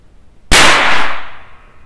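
A single loud rifle shot from a Pedersoli black-powder rifle cracks out sharply and close, then decays over about a second and a half; no talking.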